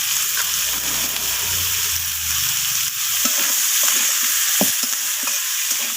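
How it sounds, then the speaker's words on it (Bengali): Potatoes and vegetables stir-fried in a pan, with cauliflower stalks going in, give off a steady, close sizzle. Scraping strokes of the spatula come through it, growing more distinct and rhythmic in the second half, with no voices. "তো আলুটাকেও এইভাবে নাড়াচাড়া করে নিচ্ছি সব কিছুর সাথে"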